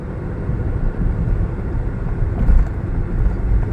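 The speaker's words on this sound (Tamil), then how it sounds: "வண்டி 120 கிலோமீட்டர் ஸ்பீட் பர் ஹவரே நம்ம ரீச் பண்ணுறோம்" A used car on a test drive at 120 km/h gives a steady low road and engine rumble, fairly loud and continuous, with no talk.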